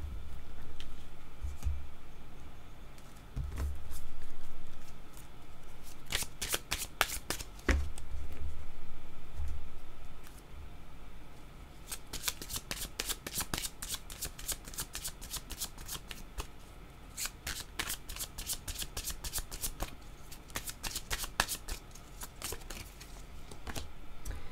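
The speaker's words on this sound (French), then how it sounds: "Je vais prendre mes cartes jaunes avant de déposer une carte sur l'envol." Playing cards are shuffled and laid down during a card reading, giving repeated bursts of crisp riffling and flicking. Softer handling and a few low thumps come first, then denser, louder shuffles follow in rapid runs.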